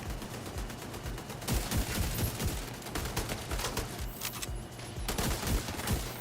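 Dense, sustained gunfire from The Division 2 video game, rapid automatic bursts overlapping continuously with loud sharp reports throughout, no talking.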